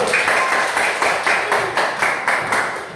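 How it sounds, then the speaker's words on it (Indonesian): Classroom group clapping for a presenting group, a loud, rhythmic pattern of synchronized claps in regular bursts, close and repeated several times in a steady beat. "tepuk tangan untuk kelompok 1"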